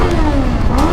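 A Qjmotor Race 450 motorcycle engine revs loudly inside a tunnel, a brief, close, echoing rise and fall in pitch.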